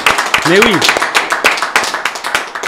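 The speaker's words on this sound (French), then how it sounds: "on va tous s'applaudir parce que c'est un plateau exceptionnel" Studio guests on a French talk-show set clap together, sharp irregular claps scattered under a speaking voice that runs over most of the applause.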